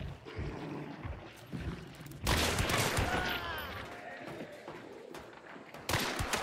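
Gunfire from Hunt: Showdown, a Dolch pistol among the weapons, with a loud burst of shots and cracks in a cluster that then tails off into scattered reports and ambient rustle.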